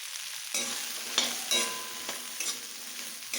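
Okra sautéing and being stirred in oil in a pan, a soft steady sizzle broken by a few sharper scrapes and clinks of the spoon, close and moderately quiet, with no voices.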